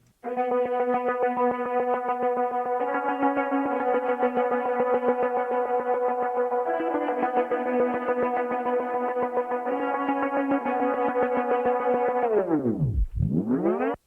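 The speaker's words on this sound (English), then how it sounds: "a pretty cool effect there that happens at the beginning and end of the melody, thanks to the Bliss Slow Machine app" Synth melody for a trap beat made in Cubasis 3, run through the Bliss Slow Machine app with distortion, echo and chorus; a steady, dense, buzzy line plays loud and continuous, then pitch-bends sharply down and back up near the end.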